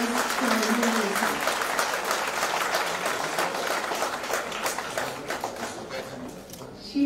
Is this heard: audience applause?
yes